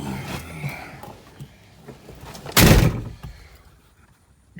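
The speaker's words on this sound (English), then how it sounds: "Good solid door slam there. So you can tell this car's made out of real steel." A single loud, solid car door slam on a Ford Torino, a heavy all-steel body, lands as one sharp thump midway through, with quieter outdoor rustling and handling before it and near silence after.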